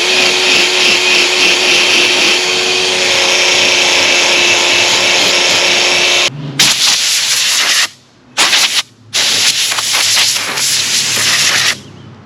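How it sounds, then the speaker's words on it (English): Wire wheel grinding surface rust off a vintage Porsche 911 Targa body, a loud continuous abrasive whir that drops out briefly a few times and resumes. "And then I've got our wire wheel. And let's get all that surface rust off."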